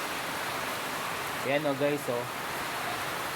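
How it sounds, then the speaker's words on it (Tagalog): Steady broadband rain noise, a dense continuous hiss of heavy rainfall driven by strong wind, with a brief spoken voice in the middle. "Malakas yung ulan. Tapos may kasamang hangin pa yan."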